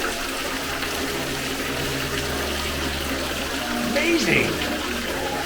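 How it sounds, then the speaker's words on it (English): Water runs at a roadside attraction: a steady, broad rush of flowing water throughout, with a person speaking briefly over it near the end. "There's water running."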